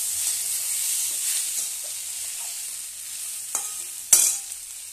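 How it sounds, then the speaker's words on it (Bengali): Ivy gourd (kundri) frying in a pan makes a steady close sizzle with spatula stirring scrapes, a few sharper clatters near the end, and no talk. "আমার কুঁদরি ভাজা হয়ে গেল"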